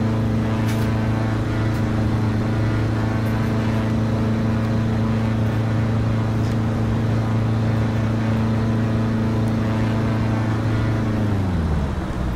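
A simulated light aircraft engine in Flight Sim World drones loud and steady as the throttle runs up, holding a constant pitch before spooling down at the end.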